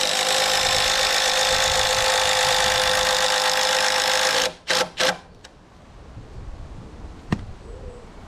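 A power driver whines steadily for about four seconds, driving a screw into pergola timber, then cuts off with a few short bursts and a sharp tap, leaving quiet room noise.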